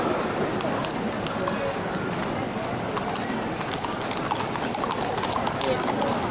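Hooves of large and smaller horses clip-clop steadily on pavement in the Cavalcata dei Magi parade in Florence, a dense, continuous clatter from many animals under constant crowd and street noise.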